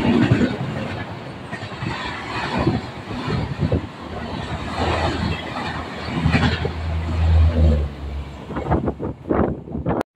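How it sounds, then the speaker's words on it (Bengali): An Indian Railways Humsafar Express train runs through Ahmadpur Junction station as a steady, loud rumble of passing carriages with rhythmic wheel clatter throughout, with a heavier low surge toward the end. "আহমদপুর জংশন স্টেশন দিয়ে বেরিয়ে যাচ্ছে হামসফর এক্সপ্রেস।"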